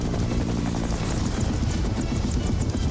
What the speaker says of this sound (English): There was a helicopter there all along.